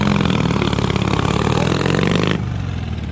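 A hot rod's engine roars loudly and steadily at high revs at a speedway stunt show, then drops abruptly to a lower, quieter rumble near the end.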